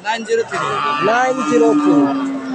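A pregnant cow at a cattle market lets out a close, drawn-out moo that rises and bends in pitch over a couple of seconds.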